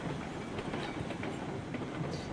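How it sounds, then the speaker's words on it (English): A freight train with light empty cars runs downhill in the video game RailRoads Online, giving a steady, continuous rumble and faint clickety-clack of wheels on rail with no voices. "Flying freight train here in a minute."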